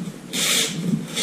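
A short, dry scraping rasp as a blade pushes through cardboard, quiet and close, lasting about a second.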